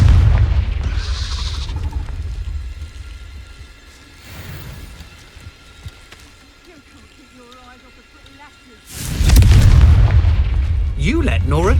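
Spell explosions from the Confringo fire spell in the Hogwarts Legacy video game: heavy booming blasts at the start and a loud burst near the end, with quieter combat noise and voices in between.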